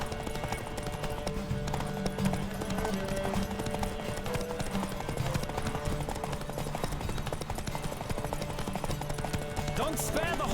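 Horses gallop in a race in The Witcher 3, with continuous rapid hoofbeats close by over game music. A whinny and snatches of voices rise briefly above them.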